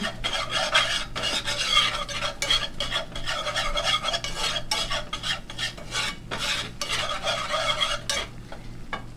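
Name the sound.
whisking sauce with pepper and mustard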